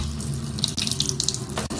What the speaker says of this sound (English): Hot water sink steak.